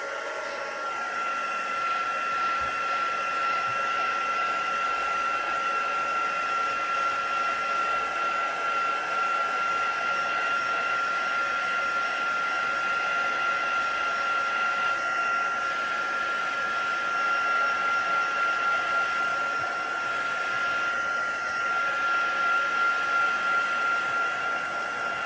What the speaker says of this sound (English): I'm just going to give that a dry with my heat tool.